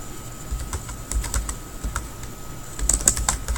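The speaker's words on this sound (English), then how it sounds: "I am pressing my backspace keys to delete." Someone types on a computer keyboard and presses the backspace key to delete text, making quick irregular clicks close by with short pauses and no talking.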